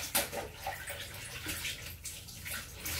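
Water splashes and sloshes as laundry is scrubbed and rinsed by hand in a basin, a close, continuous uneven swishing with small splashy bursts.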